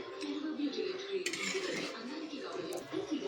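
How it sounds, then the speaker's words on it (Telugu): Fried peanuts are scooped out of a cooking pan and tipped into rice, giving close, light metallic clinks and scrapes of a utensil against the pan in a steady, busy rhythm. "పల్లీలు వేగిపోయినాయండి. తీసేసుకుందాం. రైస్లో వేసేసుకుందాం."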